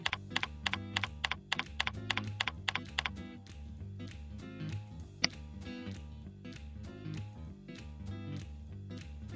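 Computer keyboard being typed on to enter a username and password at a server login screen, a rapid run of crisp clicks followed by slower, scattered keystrokes, close and clear, with no voices.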